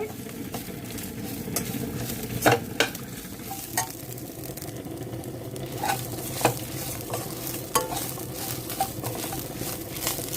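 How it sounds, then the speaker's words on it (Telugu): Tamarind simmers in water in a pot on the stove, a soft continuous bubbling hiss broken by scattered sharp pops and light taps, with no one speaking. "చింతపండు కొంచెం వాటర్లో ఉడకబెడుతున్నానండి"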